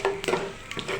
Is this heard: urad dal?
yes